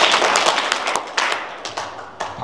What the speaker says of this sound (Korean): CBMC 하면은 박수 한번 쳐주시기 바랍니다.